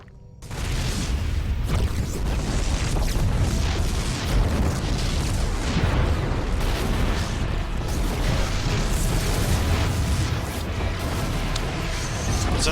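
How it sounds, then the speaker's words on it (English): Continuous heavy rumbling blasts and booms from the video game StarCraft II: Heart of the Swarm, dense and loud throughout with no pauses, like sustained battle explosions. "The explosions have stopped."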